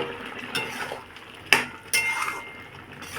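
Watermelon vegetable curry stirred in a pan, with a few sharp scrapes and clinks of a spoon against metal over a soft, steady sizzle, no talking.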